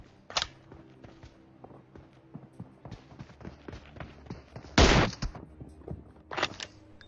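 Gunfire in PUBG during a one-on-one team deathmatch, scattered single shots and short bursts with one loud close blast, over a rhythmic background of faint thuds and clicks.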